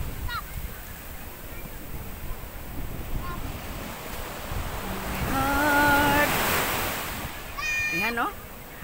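Sea waves wash continuously onto the shore, swelling louder toward the middle before easing, with wind buffeting the microphone and brief tonal chirps near the end.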